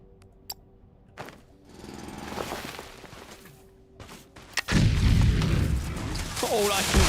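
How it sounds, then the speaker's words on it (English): Distant booming explosions in a factory-building video game, scattered and muffled at first, then a loud, dense, rumbling barrage takes over toward the end. "All I can see is explosions in the distance."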